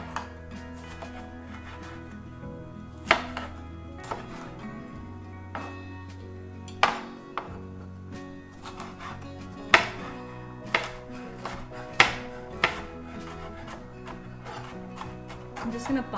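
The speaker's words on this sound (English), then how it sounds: "I'm just gonna finely chop the jalapenos." A knife finely chopping seeded jalapenos on a cutting board gives sharp, irregular taps that stand out over background music and a steady low hum.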